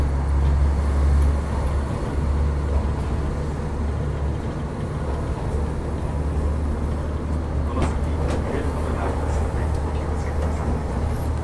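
Steady low rumble and hum of a diesel limited express train running from Sapporo to Wakkanai, heard from inside the car, with a brief brighter clatter near the end.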